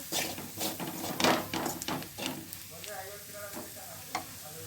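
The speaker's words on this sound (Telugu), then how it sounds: "ఇప్పుడు అన్నీ బాగా ఫ్రై అయ్యాయి కదా." Onions sizzle in a pan with chili powder and turmeric while being stirred, with steady frying hiss and repeated close scraping and clattering of the spoon against the pan.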